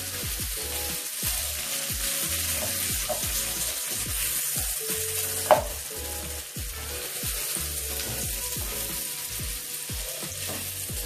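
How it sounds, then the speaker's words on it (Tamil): Chicken legs for butter chicken leg fry sizzle steadily in a pan, with soft stirring clicks throughout and one louder metallic clank midway; the sound is close and continuous, and nobody speaks. "இப்போ நம்ம சிக்கனை திருப்பி ஊத்திக்கலாங்க."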